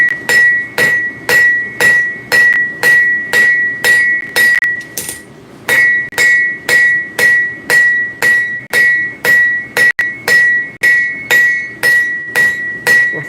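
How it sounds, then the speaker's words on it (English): A straight peen hammer strikes hot metal being stretched at a forge, in a long, steady, evenly paced series of loud ringing blows, with one brief pause partway through. "We're going to use our straight peen."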